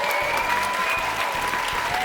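A television studio audience applauds the guests Patrice Bélanger, Chantal Lacroix and Mario Lirette at the close of the show, a steady, dense clapping that fills the room without letting up.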